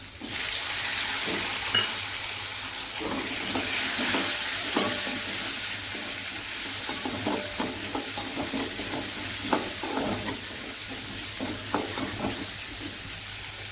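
Chopped tomato frying and being stirred in a pan for a chutney, a loud continuous sizzle with frequent scraping stir strokes throughout, no talking.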